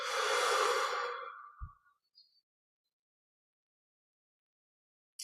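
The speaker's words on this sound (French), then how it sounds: "On relâche le ventre et on expire." A slow, steady exhalation during a guided breathing exercise, a soft broad airy rush of breath lasting over a second that fades out, followed by a brief low thump and then near silence.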